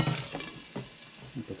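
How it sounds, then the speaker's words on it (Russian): Zucchini goes into a hot frying pan, giving a soft sizzle with a few scraping stirs and light clatter, close and fairly quiet, lasting under two seconds. "И добавляем цукини."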